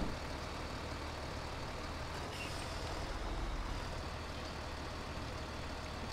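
A Kenworth heavy duty tow truck wrecker in GTA 5 creeps forward, a steady low diesel rumble with a faint brief hiss partway through, fairly quiet and even throughout.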